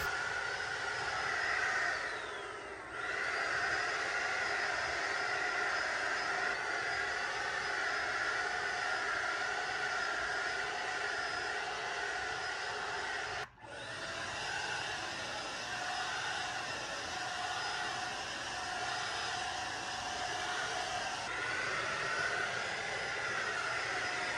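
A paint sprayer applies Algonquin-colour paint to a vintage wooden bench, making a loud continuous airy hiss that stops briefly twice before starting again.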